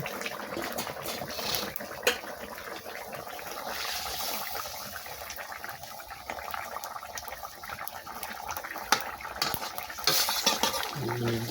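Fish stirred into a hot pan with garam masala in a village kitchen, a steady scraping and sizzling bubble running throughout with a couple of sharper clinks of the spoon against the pan.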